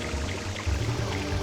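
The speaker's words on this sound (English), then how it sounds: "there is that nice fountain that refreshes our water for us" Water pours from a refill fountain in the Super Mario Sunshine video game, a steady rushing, splashing stream heard alone and fairly loud.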